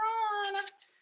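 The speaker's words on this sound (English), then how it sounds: "I was trying to show you the kitty." A kitty gives a single drawn-out meow, clear and close, its pitch falling slightly before it trails off into quiet.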